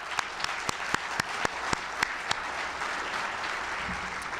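Audience clapping at a university awards celebration, sustained applause with a few sharp nearby claps standing out early on.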